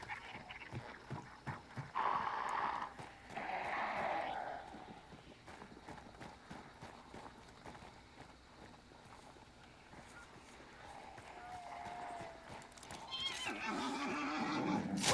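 Horses whinny a couple of times over a steady drumming of galloping hooves, with another neigh rising near the end amid game ambience.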